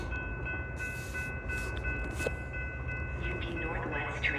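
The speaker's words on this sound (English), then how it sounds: "UP Northwest train number 657 to McHenry is now arriving." A Union Pacific Northwest commuter train pulls into a station with a low, steady rumble and quiet rolling noise, with a few faint higher tones and soft background sounds.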